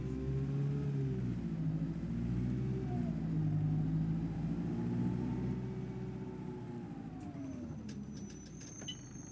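Diesel bus engine in the OMSI 2 simulator, a London Citybus C200 on the Smarden route 314, pulling away with a steady low rumble that rises in pitch as it accelerates, loud and close, no talk.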